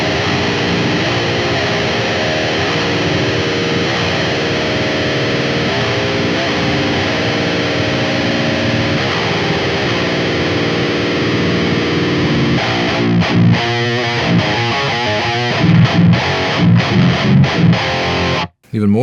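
A heavily distorted metal guitar, heard through a cabinet impulse response with the microphone moved off-center for a darker tone, plays dense sustained riffs for most of the clip before breaking into choppier palm-muted bursts near the end.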